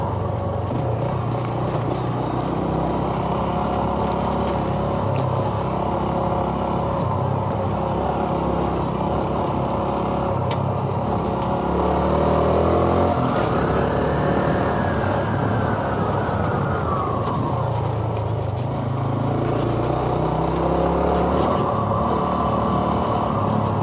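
Honda CT125 motorcycle ridden along a muddy trail over wet leaves gives a loud, steady engine drone, its pitch swelling and falling with the throttle, close and continuous throughout.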